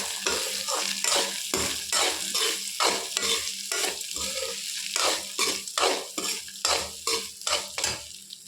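A spoon stirs lemon rice with salt and lemon juice in a metal pot, giving repeated rhythmic scraping and clinking strokes, close and fairly loud, with a soft sizzle underneath and no talking.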